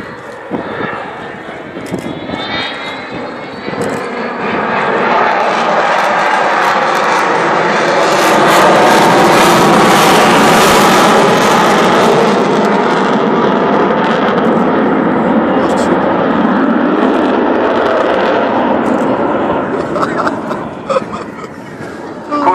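Loud, sustained roar of the Avro Vulcan bomber XH558's jet engines at full power during a spiral climb at Southport Air Show, swelling and holding steady as it passes close by, with a broad rumbling wash.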